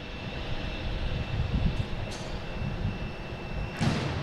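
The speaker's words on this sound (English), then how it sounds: "And also got Southwest taking off" A Southwest Boeing 737-800 jet airliner taking off from Boston Logan International Airport, a steady broadband roar at a distance, with a few brief thuds over the continuous engine rumble.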